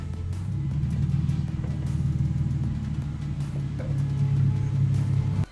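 A car fitted with a new engine runs steadily, its deep, loud engine rumble holding close and continuous throughout with no talking.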